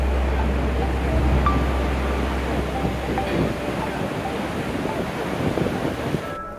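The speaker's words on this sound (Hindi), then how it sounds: "ये जो दोस्तों आप जो धारा देख रहे हैं ना, ये कैलाश मानसरोवर से आ रही है। और ये सामने जो है ये है माँ सरस्वती नदी।" Steady rushing flow of the Saraswati river stream at Mana village in the Himalayas, a broad continuous wash with a low rumble in the first half and a few faint clicks, no voices.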